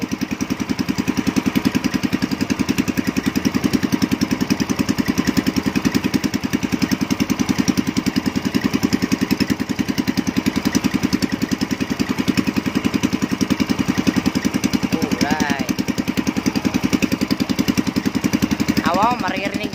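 A small fishing boat's engine runs steadily at the stern, a loud, close, rhythmic chugging throbbing without pause, with a voice talking over it near the end.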